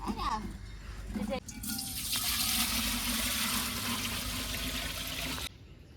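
Water poured into a cooking pot on a stove before making biryani, a steady loud gush of running liquid lasting several seconds before stopping abruptly, with faint voices in the background.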